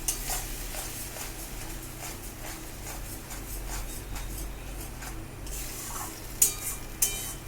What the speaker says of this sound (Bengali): এবার এতে দেব টমেটো পিউরি, দিয়ে এটাকে ভালো করে কষাবো।